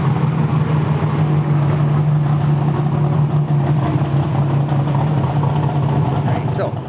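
A car engine runs steadily on a dyno, a loud continuous drone with a strong low hum that holds level throughout before easing slightly at the end.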